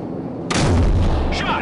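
Gunship cannon fire in Call of Duty 4: Modern Warfare, a single heavy, booming shot erupting after a brief quiet hum and rumbling out with a deep low-end tail.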